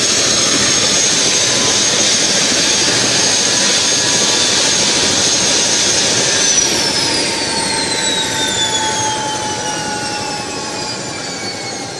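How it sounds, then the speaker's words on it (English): A helicopter carrying Manipur's Chief Minister sits at the Kangla helipad in Imphal. Its turbine emits a loud, steady high whine, and several tones glide slowly downward as the engine winds down. "Chief Minister Nongthombam Biren Hauzik helicopter da Imphal ki Kangla da gi khoi tapau"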